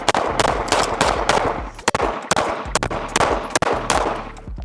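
A Staccato XC competition pistol fires in quick strings of loud, sharp cracks with brief pauses between bursts, each shot close and echoing, with no talk.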